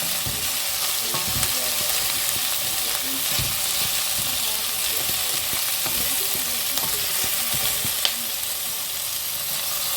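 Onions frying steadily in a pan for blanquette de veau, a continuous close sizzle with scattered crackles and light stirring scrapes throughout, no voices.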